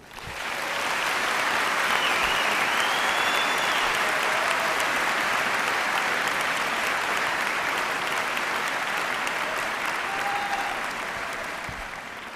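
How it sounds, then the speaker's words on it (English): Commencement audience applause at a college graduation ceremony: a dense, steady roar of many hands clapping, loud and sustained for the whole stretch and easing slightly at the end. "Please join me in a round of applause to acknowledge their service and to express our gratitude."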